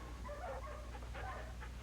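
Several dogs in a kennel give a few soft barks and whimpering yips, fairly faint and close, over a low steady hum.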